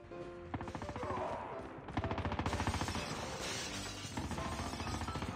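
Fast, sustained automatic gunfire in COD Mobile's gun game mode, steady rattling bursts of evenly spaced shots at moderate loudness, pausing briefly then resuming under a game soundtrack.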